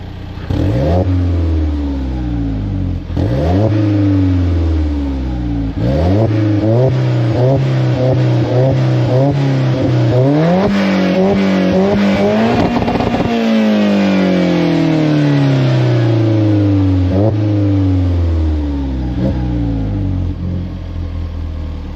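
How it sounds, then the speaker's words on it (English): Alfa Romeo 4C with a catless downpipe and big muffler revving close up, a series of sharp throttle blips followed by longer climbing revs, a held high rev and a slow falling decay, loud and raspy throughout. "Let me give you some revs. Again, we got a downpipe with no cat and a big fat muffler."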